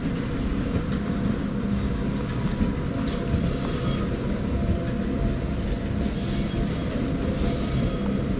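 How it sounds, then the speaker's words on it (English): Gornergrat Railway cog train approaching near the Matterhorn, a steady loud rumble of wheels on rails with squealing metal and faint clicking, continuous throughout with no talk. "Oh, there's a train coming."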